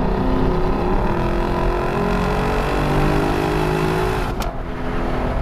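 A 2021 Lexus LC500 convertible on a twisty road in manual mode, its exhaust droning steadily under acceleration, with a brief sharp break near the end as it upshifts.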